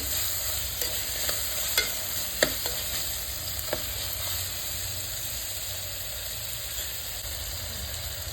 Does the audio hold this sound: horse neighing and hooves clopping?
no